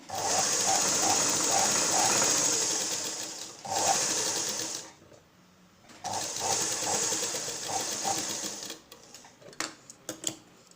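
A sewing machine stitches a blouse in loud, rapid, steady runs that stop and restart. The whirring bursts are separated by short quiet gaps, with a few light clicks at the end.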